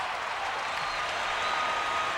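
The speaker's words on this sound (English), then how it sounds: "Now this crowd is a rowdy, rambunctious group. They'll cheer for almost anything." Hockey arena crowd at a 1994 playoff game between the Dallas Stars and Vancouver Canucks roars and applauds in a steady, dense wash of noise that holds at an even level for the whole stretch, with no clear voices on top.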